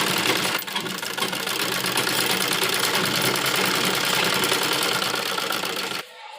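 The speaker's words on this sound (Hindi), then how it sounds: "सबसे पहले हम इस तरह कपड़े को इसके ऊपर बुकरम के गले के ऊपर फोल्ड करते हुए एक कच्ची सिलाई लगाएंगे" A sewing machine runs a loose basting stitch along a baby frock neckline, with the fabric folded over a buckram neck piece. It gives a close, continuous rapid whirring clatter for about six seconds, then stops abruptly.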